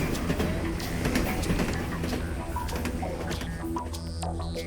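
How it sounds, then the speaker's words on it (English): Continuous rumbling and rattling of a moving train on the rails near Samana Bay, Dominican Republic, with steady clatter and scattered metallic clicks throughout. "the nostalgic sound of the railway, of which only memories linger."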